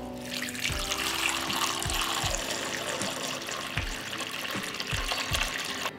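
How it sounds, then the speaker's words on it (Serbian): Water runs into a large cooking pot holding cloth-lined jars, a steady splashing gush with low hollow knocks recurring every second or so, close up and without speech. "I u šerpu ću sipati vodu."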